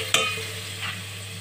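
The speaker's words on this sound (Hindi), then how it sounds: "ये हमने इसके अंदर हरी मिर्ची काट के रखी है और साथ में अदरक का पेस्ट है, ये हम इसके अंदर डाल देंगे, ठीक है। हम इसके फ्राई करेंगे।" Green chillies and ginger paste hitting hot oil with golden-brown onions for a ridge gourd dish: a sharp clatter as it drops in, then a quiet steady sizzle.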